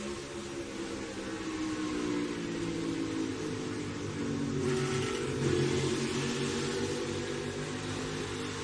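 A NASCAR stock car engine heard from onboard, droning and shifting pitch as the driver brakes and lifts off the throttle, the engine note sweeping down and settling, fairly muffled and steady with no talk.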